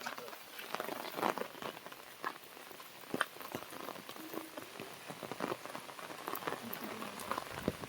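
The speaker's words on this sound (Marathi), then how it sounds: "पाऊस आहे मित्रांनो, मज्जा येते पावसातून फिरायला." Village rain patters steadily on surfaces, a faint broadband hiss with scattered sharper drops throughout.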